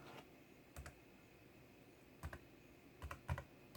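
A few scattered keyboard key clicks, quiet and close, with short pauses between small bursts of typing.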